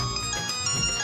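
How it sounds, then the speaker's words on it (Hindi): A telephone ringtone plays loudly and close, a bright electronic melody of repeating tones filling the short moment with no talking. "अरे ये तो सोने का फोन है।"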